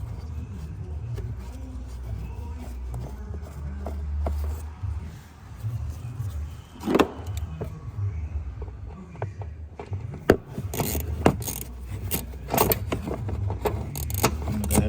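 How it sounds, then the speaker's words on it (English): Screws being tightened back into a Ford Transit door with a 7mm driver, scattered metallic clicks, rattles and scrapes close by over a low background hum, irregular and busier toward the end. "So now I'm going to put all of these 7mm back in, tighten them all up."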